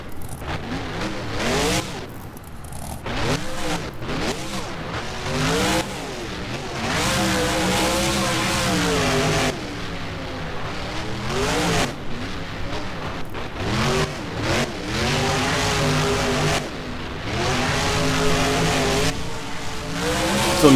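Monster truck engines in the BeamNG driving game rev and surge repeatedly during a freestyle run on the Lightningscape map, rising and falling in loud sweeping pitch with brief tire squeals, no talking.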